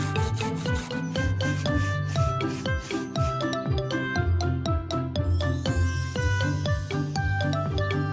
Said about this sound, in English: Scrub, scrub, scrub.